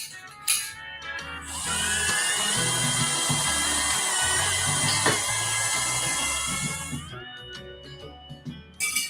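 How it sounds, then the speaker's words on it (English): A power drill bores holes through a metal buggy frame to secure the axle. The sustained high-pitched whine runs for several seconds, loud and close, with no talk, and short clanks and knocks come before and after it. "Time to drill some holes to secure the axle."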